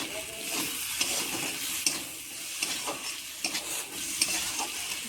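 Spiced food stirred in a frying pan: a steady close sizzle with periodic scraping clicks of the spoon against the pan, no voices.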